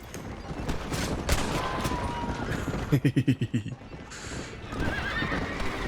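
Gunfire in the Western video game Red Dead Redemption fires as a rapid burst of about seven shots amid horse neighs and clip-clop hooves, with game voices and speech under the action.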